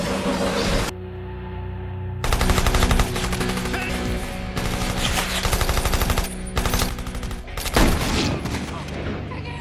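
Sustained bursts of automatic gunfire spray a rooftop sniper's position in an action film, loud and dense with brief pauses between volleys.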